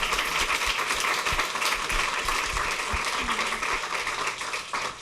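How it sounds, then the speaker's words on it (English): An audience applauds the panelists at the end of a media and technology panel discussion: a steady, full round of clapping from a sizable crowd lasts throughout, with little talk. "A huge round of applause for our panelists."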